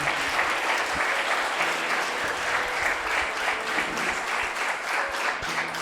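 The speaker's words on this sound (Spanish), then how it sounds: "Dale un fuerte aplauso al Señor." A church congregation at a Spanish-language worship service claps loudly and continuously, a dense, even roar of applause that fills the room for several seconds without talk.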